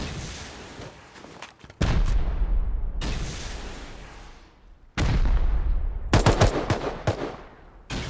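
Gunfire in the video game Rust during a base defence: loud bursts of automatic fire and single shots crack close by, with two long rolling volleys and a rapid cluster of shots near the end.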